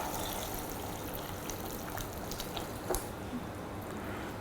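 Water pours steadily into a pot of Sri Lankan beef curry as it cooks, a continuous close splashing and trickling wash with no talking.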